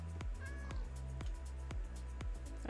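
A Minecraft cat gives several short, clear meows at an even rhythm, each one sharp at the onset. They sit over a low, steady in-game music drone and sound close and moderately loud.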